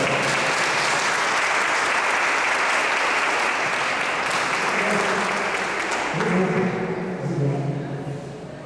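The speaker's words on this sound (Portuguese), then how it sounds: "uma salva de palmas" A church congregation at a parish pastoral formation event applauds, a loud sustained round of clapping from a crowd that tapers slightly as voices and speech begin underneath toward the end.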